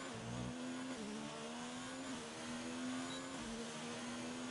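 Race cars in a Canadian Grand Prix racing video game, including Ferraris, pull out toward the track, with a steady droning engine tone that rises and falls slightly and continues throughout.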